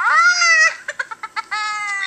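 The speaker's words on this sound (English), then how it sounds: "And a bad old cat named Gideon." A cat gives a long, loud, whining meow, then a string of short chirping mews, and finishes with another drawn-out meow, all close and alone without speech.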